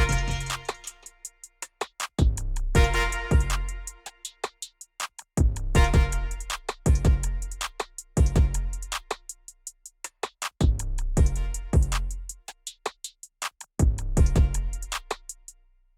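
A buzzy, distorted synth trumpet preset plays short repeating phrases in a trap beat, punchy stabs with gaps between them, loud and alone without any talking.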